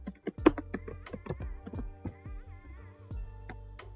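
Quick bursts of key presses on a computer keyboard, a run of distinct clicks and taps close up, with irregular typing rhythm and short pauses between keystrokes.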